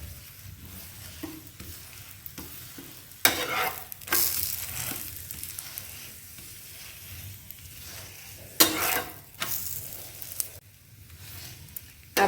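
A methi paratha sizzles in ghee on a hot pan, a steady soft crackle broken by a few louder bursts of frying as the flatbread is pressed and turned.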